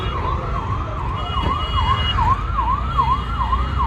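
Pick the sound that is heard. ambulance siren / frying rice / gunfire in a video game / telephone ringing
ambulance siren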